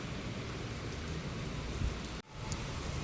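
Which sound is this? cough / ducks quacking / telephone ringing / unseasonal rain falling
unseasonal rain falling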